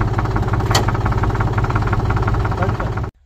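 A tractor engine working a Maschio rotavator runs steadily and loudly up close with a constant throbbing drone, then cuts off abruptly near the end.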